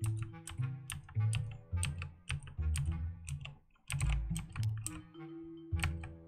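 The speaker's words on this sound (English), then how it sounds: "You hear a key press click sound after the correct key." Key press clicks while typing a password in the video game Lock The Door, a steady run of sharp, close clicks in quick irregular succession over low background game tones, with no voices.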